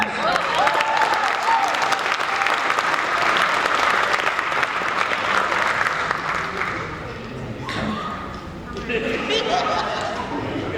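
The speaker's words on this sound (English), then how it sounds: "Can we get applause for the girl dads in the house?" Audience applauding throughout at an end-of-year faculty meeting, a dense, steady clatter of many hands that tapers slightly toward the end, with some chuckling and chatter mixed in.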